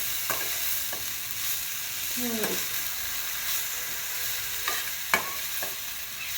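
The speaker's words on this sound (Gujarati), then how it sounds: "આ 2 મિનિટ પાલકને સાતરી લીધી છે" Spinach sautés in a pan, giving a steady soft sizzle and frying crackle, with a few scraping stirs of a utensil against the pan.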